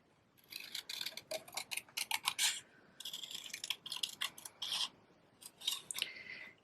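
Scissors fussy-cut a paper coffee cup piece for a card, giving bursts of crisp, close snipping in quick rhythmic runs with brief pauses between, alone with no talking.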